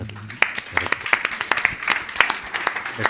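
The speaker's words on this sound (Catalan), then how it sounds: "li faré un aplaudiment també" Scattered audience members at a public debate clap in a sparse, uneven patter of individual claps, fairly close, with a voice faintly underneath.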